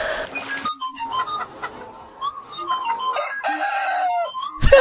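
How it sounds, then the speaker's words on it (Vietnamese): A rooster crows loudly and at length among the hens in a henhouse, a long wavering call with some clucking before it. "Sao nghe tự dưng có một con trống? Gáy nghe oai thực sự."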